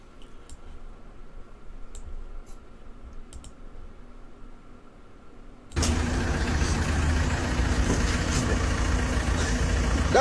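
A car engine runs with its exhaust pipe blocked, first as a faint low idle with small clicks, then after about five seconds a sudden loud, rough roar that holds steady to the end.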